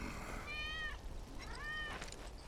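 Wedge's cat in the video game Final Fantasy 7 Remake gives two drawn-out meows, soft and somewhat distant, over a low background ambience.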